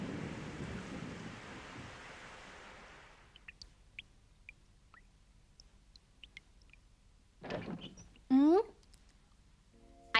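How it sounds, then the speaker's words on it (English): Cartoon rain falls as a steady broadband hiss for about three seconds, then cuts off, leaving a quiet scene with small scattered clicks and a brief louder rustle and chirp near the end. "It started raining."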